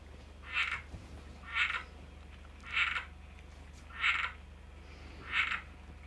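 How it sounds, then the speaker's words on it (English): A tree frog hidden behind a microwave inside an RV croaks five times, each call a short raspy burst repeating at a steady interval of about a second apart, clear and fairly close over a low hum. "we got a tree frog, and it's hiding behind our microwave"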